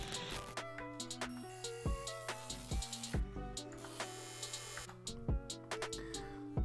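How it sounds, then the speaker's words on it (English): Short glitch effects in a remix intro: choppy clicks and stuttering tonal bursts stack over sustained synth notes, close and moderately loud, with no talking. "there's a bunch of like little glitch effects"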